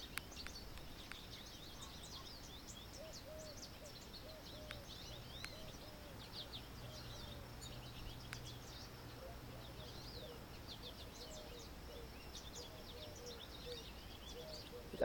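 Birds chirp outdoors in scattered, faint high tweets, with a soft pigeon-like coo among them, all set against quiet background noise.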